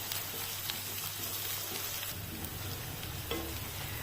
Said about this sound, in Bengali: এবারে এটাও 2 মিনিট কাঁচা স্মেলটা যাওয়া অবধি ফ্রাই করে নেব আদা রসুন